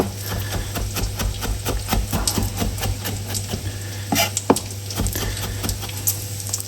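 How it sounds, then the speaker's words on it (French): Chorizo and bacon fry in a dry pan with no oil, giving a steady close sizzle with scattered crackles and pops, and no talk. "Dans ma poêle, j'ai pas mis d'huile, hein, parce que le chorizo va rendre du gras, le bacon aussi."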